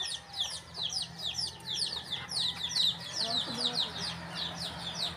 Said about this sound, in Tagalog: Ayan pa yung mga manok, oh.